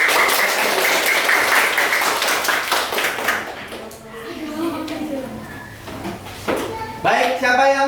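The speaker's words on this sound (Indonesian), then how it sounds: "Berikan aplaus kepada Jenita." Classroom applause for a student named Jenita, a dense burst of many hands clapping that fades after a few seconds before a voice speaks.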